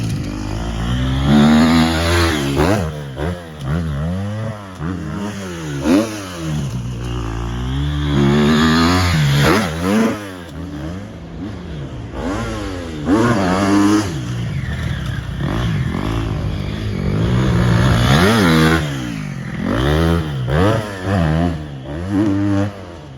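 A dirt bike motorcycle on a motocross track revs hard and continuously as it rides through ruts, its engine rising and falling in repeated surges, loud and close throughout.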